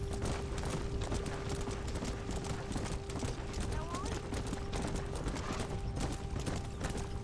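Horse hooves clip-clop at a steady walking rhythm in the video game Red Dead Redemption: Undead Nightmare, moderately close under a constant tonal hum, with faint game voices mixed in.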